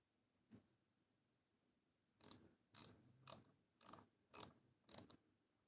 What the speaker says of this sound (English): Torque all these ones down to my whatever spec I say it is.